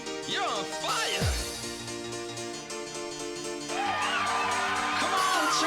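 At a dance competition, a crowd cheers and whoops in rising, excited bursts over loud music, with a sharp bang partway through.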